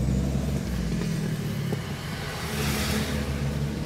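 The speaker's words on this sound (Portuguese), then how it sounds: "Agora vamos mandar no carro e ver se ficou bom, né?" A Ford Del Rey CHT car drives along with its new gearshift kit fitted, a steady low engine rumble running throughout with a slight lift in revs, close and continuous with no talking.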